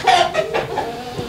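A purebred rooster of about 4 kilograms, around two years old, clucking close by, a quick series of short, throaty clucks in a rapid burst, loud and clear with no talking.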